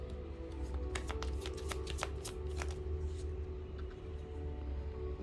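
Tarot cards being shuffled in a quiet room during a reading, a steady papery riffle of crisp flicks and slides with a low hum underneath and no voices.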